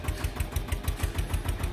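Small tractor engine running nearby, a rapid, even chugging pulse about four beats per second, loud and steady with no talk over it.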